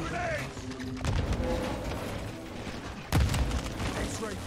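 Grenade blasts and gunfire in the Modern Warfare 2 video game: dense, rumbling battle noise with a sharp, loud explosion near the end, under shouted dialogue.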